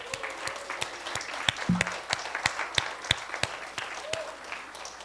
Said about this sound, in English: I just really would like to ask you to applaud her.